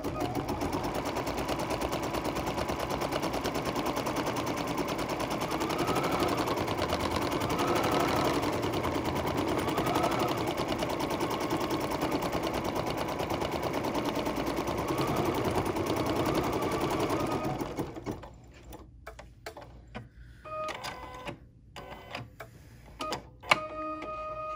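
Sewing machine running a steady, continuous placement stitch on swimsuit material for a long stretch, close and loud, then stopping, followed by quieter clicks and handling.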